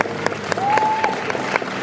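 An audience at a cosplay parade applauds a cosplayer. Brisk, moderately loud clapping runs for a couple of seconds, and a single sustained whistle tone rises over it midway.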